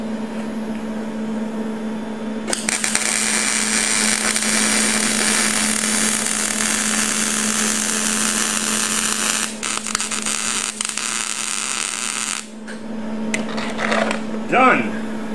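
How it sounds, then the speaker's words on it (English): Arc welding around a notch cut in a tanker part, a steady loud crackling buzz holding for about ten seconds over a constant low hum, then breaking off into brief sputters and scattered clanks near the end. "so I'll weld around the notch too"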